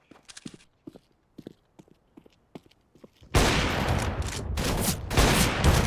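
Counter-Strike: Global Offensive gunfire in a competitive match, opening with scattered light footstep-like clicks, then a sudden loud, dense burst of rapid automatic fire that continues close and heavy.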